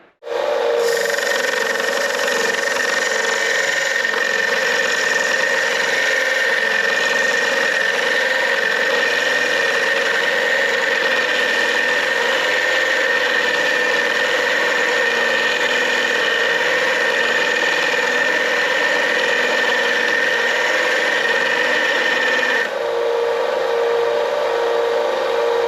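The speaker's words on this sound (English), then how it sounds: "This little Harbor Freight combo sander is really speeding the grinding up a bunch." Harbor Freight combo sander grinding metal parts in a home metal fabrication shop before welding, a steady loud whine with a high squealing tone running continuously for over twenty seconds, then dropping slightly as it winds down near the end.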